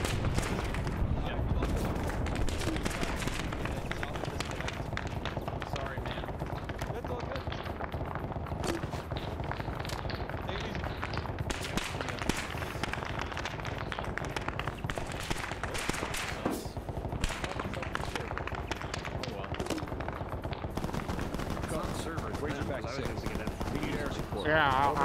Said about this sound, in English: Artillery, get down.